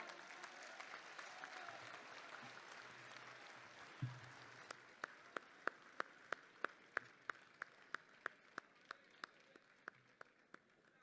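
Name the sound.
audience applause welcoming a poet at a mushaira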